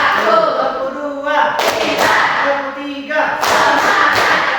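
A classroom group plays an ice-breaking clap game: voices chant in unison, then two loud bursts of clapping from the whole class break in between the chants.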